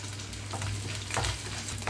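Peanuts and curry leaves fry in a little oil for a tempering, a close and steady sizzle broken by light crackles and stirring sounds.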